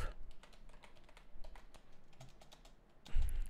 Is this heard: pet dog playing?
no